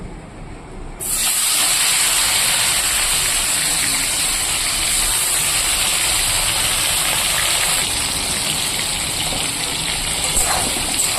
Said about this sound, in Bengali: কড়াইতে তেল দিয়ে দিয়েছি তেলটা গরম হয়ে গেছে এবার আমি চিংড়ি মাছগুলোকে ভেজে নেবো